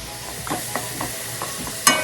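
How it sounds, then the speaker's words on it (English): Beef browns in a pan with onion and garlic, giving a soft steady sizzle broken by a few light stirring scrapes and a sharp clink near the end. "I'm going to add in the onion and garlic and let it cook with the beef as it's browning"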